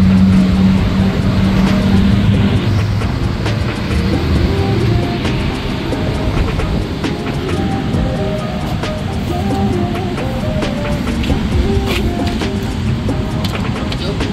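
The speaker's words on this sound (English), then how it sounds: "That's a car right there." A car heard near an abandoned restaurant lot, its broad engine and road rumble steady and fairly loud across the whole stretch, with faint voices underneath.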